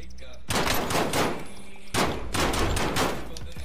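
Pistol gunshots in the Call of Duty Warzone video game, heard as two dense bursts of loud, close gunfire about a second and a half apart, with faint voices beneath.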